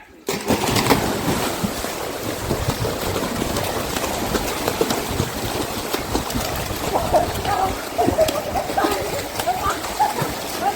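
Boys jumping into a swimming pool on a pool day, with continuous splashing and churning water under excited shouting and talk throughout.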